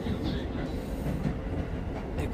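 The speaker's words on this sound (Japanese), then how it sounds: "電車乗っちゃったけどさ。" A train runs steadily on rails with passengers aboard, giving a continuous low rumble and faint rhythmic wheel clatter throughout, heard from inside the carriage on a New Year trip to see the first sunrise.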